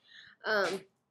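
A single close sneeze indoors at home, one short sharp burst after a faint breathy intake, followed by quiet.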